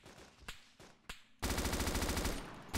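Gunfire in the video game DayZ Origins: a few separate single shots, then a loud continuous automatic burst that runs to the end, close and with no talking.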